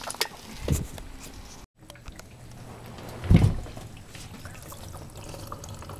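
Water from a garden hose runs into a water tank aboard a shuttle bus being converted into a wheelchair motorhome; a low, steady gurgle and trickle, with two brief louder splashy surges and a short moment of near silence.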